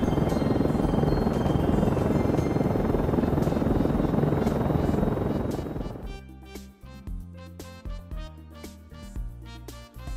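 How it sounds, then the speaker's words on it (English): Loud, steady helicopter rotor roar and engine drone close by, then cutting out abruptly after about six seconds into quieter scattered tones. "Yellow. Helicopter."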